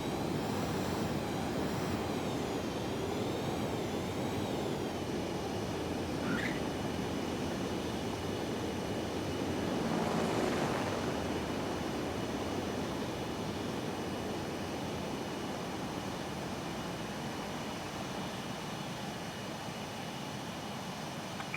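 Aircraft on landing approach in the video game Ace Combat 7, a steady, moderately quiet jet engine drone that holds evenly throughout with a slight swell midway, no talk.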